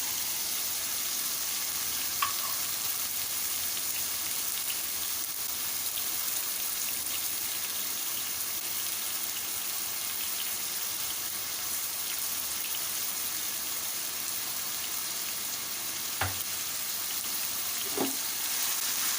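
Cauliflower, tomatoes and spices for aloo gobhi fry in a pan, giving an even, unbroken sizzling hiss for the whole stretch, with only two or three faint clicks and no talking.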